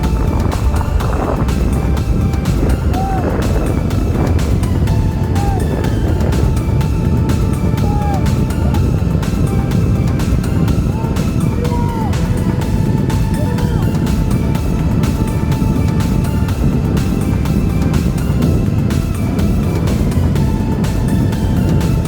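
A small Amazon minibike engine is ridden hard at about 30 mph, giving a loud, constant buzzing drone with rising and falling pitch, heavily mixed with rushing wind buffeting the microphone.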